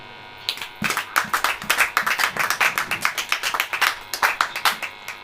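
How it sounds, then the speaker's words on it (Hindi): A church congregation claps hands in a steady rhythmic beat during a Hindi sermon, crisp repeated claps close and loud with no talk over them. "ताली बजाओ।"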